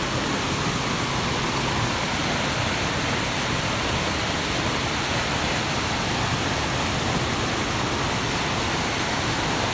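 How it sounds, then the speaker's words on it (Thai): Luang Sirimiphum waterfall, a tall waterfall falling from a high cliff, roars as a loud, dense, unbroken rush of falling water that fills the whole scene without pause. "มาเริ่มเห็นน้ำตกมากขึ้นแล้ว"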